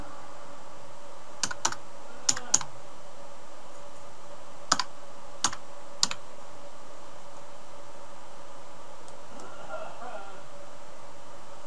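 Someone types on a computer keyboard in a few short bursts of sharp clicks over a steady background hiss, then stops, leaving only faint hum.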